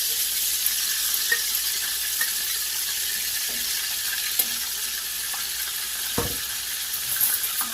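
Steady, loud sizzle of fried chicken frying in lard in a pan, a continuous hiss with occasional small pops and crackles, no voices over it.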